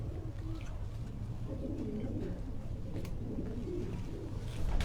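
Soft cooing from a racing pigeon held in the hand rumbles low and steady, close by, with faint rustling and a few sharp clicks in the background.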